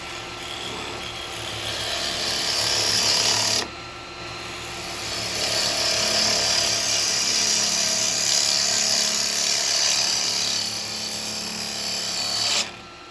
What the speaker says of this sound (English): I'm going to dish the top, round the top of this because I'm going to be hollowing it out inside.